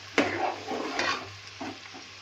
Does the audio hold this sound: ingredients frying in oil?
yes